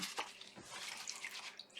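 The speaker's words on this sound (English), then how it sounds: "I'm going to put this face down in the water" An object is set face down into water, giving soft sloshing and trickling with light splashes and drips, close and quiet for about two seconds.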